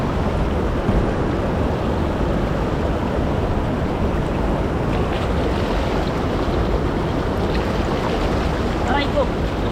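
A strong water current flows among rocks, making a continuous, loud, broadband rushing roar that stays steady throughout without pause.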